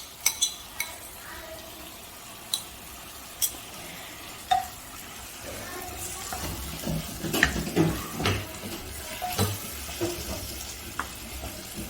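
Cooked dal lentils go into a cooking pot of lamb on the stove, with soft plops and stirring scrapes over a faint sizzle, growing busier toward the end.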